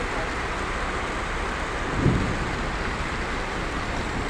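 Steady heavy rain pours on a cloudy day in Brazil, a dense wash of noise with a brief low rumble of thunder breaking through near the middle.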